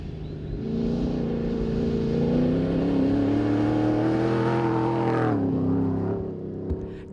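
A rally car engine in a wildlife conservancy revs and climbs in pitch over several seconds, holding a loud rasping drone before cutting off sharply near the end.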